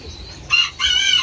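Chickens cluck and a rooster breaks into two bright bursts of crowing, close and loud over a quiet background.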